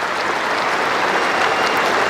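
Trent Bridge cricket crowd applauding a batsman's century innings, a dense, steady wash of clapping from a large stadium audience, loud and continuous with no talk over it.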